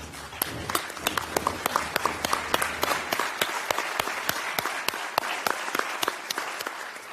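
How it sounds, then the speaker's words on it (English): Audience applauding veterans standing at a slavery remembrance day program, a steady round of clapping with sharp individual claps standing out, moderately distant and continuing evenly. "so we can give you a round of applause"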